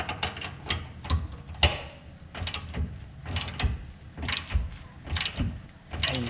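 Repeated ratchet clicks tighten a 17 mm bolt on a camber arm of an Acura TSX, in uneven bursts of close mechanical ticking.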